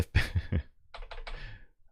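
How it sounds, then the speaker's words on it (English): Keys on a computer keyboard clatter nearby in two quick bursts: a few sharp, uneven taps come first, then a softer run of rapid clicks follows after a brief pause. "So I was trying to type with this keyboard up here."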